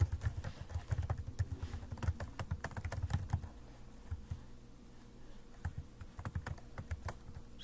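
Fingers type on a computer keyboard in quick bursts of clicky keystrokes, close to the microphone, with a brief pause before lighter intermittent tapping resumes.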